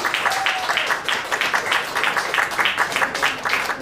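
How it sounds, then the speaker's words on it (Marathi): Audience applause at a book launch: a crowd claps steadily and densely throughout, a continuous wash of hand claps with no pauses. "एकदा जोरदार टाळ्या."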